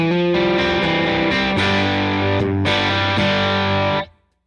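Electric guitar played through an HX Stomp dual amp preset with no foot switches engaged, a distorted, effects-laden tone with sustained chords and notes ringing loud and alone for about four seconds before cutting off.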